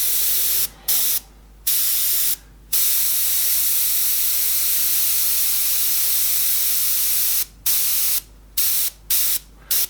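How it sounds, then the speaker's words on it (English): Airbrush spraying paint onto a Joker figure, a loud steady hiss that runs almost unbroken, cut by a few brief gaps where the trigger is released. "Notice I'm pointing my airbrush downwards, so it goes into the coat rather than the face."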